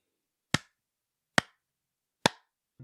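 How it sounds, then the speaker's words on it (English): Three sharp hand claps ring out alone, evenly spaced under a second apart, each a crisp close transient with a short decay against silence. "you get 3 claps"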